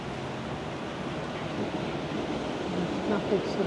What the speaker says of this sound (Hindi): कितना खूबसूरत फुवारा।